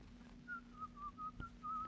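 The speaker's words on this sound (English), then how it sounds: "stop whistling that turkey in the straw" A person whistles the tune Turkey in the Straw in short, clear, fairly quiet notes, a brief rhythmic melodic phrase over a low background hum.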